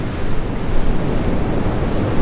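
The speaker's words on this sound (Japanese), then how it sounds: "波がでかいね。" Large surf waves break and wash continuously along an ocean shoreline, with steady broadband roar and rustling wind buffeting the microphone throughout.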